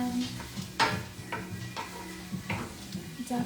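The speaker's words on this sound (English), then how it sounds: "definitely stir it around and let that cook for like, I don't know, like 8 to 10 minutes" A vegan Spanish rice dish with vegan sausage cooks in a pan, giving a soft, steady sizzle. Several distinct scrapes and clacks of a utensil stirring against the pan stand out above it, close and moderately loud.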